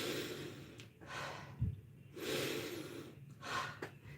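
A voice imitates the deep, labored breathing of a Bryonia patient, with several long, heavy breaths, gasps and a snort in a close, slow rhythm.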